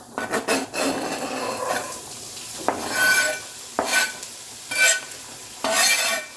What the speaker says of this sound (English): Ooh, you'll hear that sizzle.